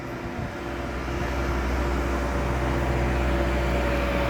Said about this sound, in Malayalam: താഴേന്ന് വണ്ടി കയറി വരുന്നുണ്ട്